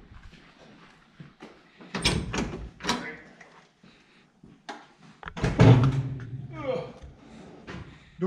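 Heavy clunks and scraping thuds as a stiff door on a 1966-68 Jeep Gladiator J2000 truck is forced open, two or three loud bangs close by, with someone speaking briefly between them.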